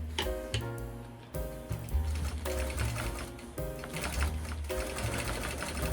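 A longarm quilting machine stitches around a poinsettia motif on a Dream Big panel quilt, guided along the edge of a ruler, with a steady rapid mechanical needle clatter that pauses and restarts in short bursts.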